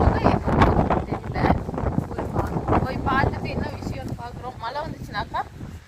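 Strong wind gusts across a rooftop during summer rain, buffeting the microphone in rough bursts while people talk over it.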